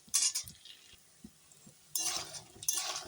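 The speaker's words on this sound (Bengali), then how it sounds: "এখন দেখো উল্টে পাল্টে ভালো করে ভেজে নিই" Banana flower balls (mochar bora) frying in hot oil and being turned over, with metallic utensil clinks and stirring scrapes, then a louder sustained sizzle swelling in two bursts near the end; no talk.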